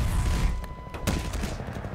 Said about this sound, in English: Stop trying to shoot me.